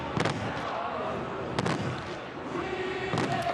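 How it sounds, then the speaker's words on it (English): Spectators striking paddles at an Oklahoma State college football game against Texas Tech, sharp cracking bursts rising over a steady roar of stadium crowd noise, heard in short clusters from a distance. "Yeah, those paddles are something else, man. They're noisy."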